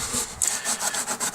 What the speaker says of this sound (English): using one of these green scuff pads to try and clean up the metal here a little bit